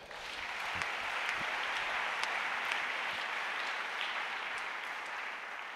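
Church congregation applauding together after a call to acclaim the Lord, a dense, steady clapping that fills the room at close range for several seconds, with no talk over it.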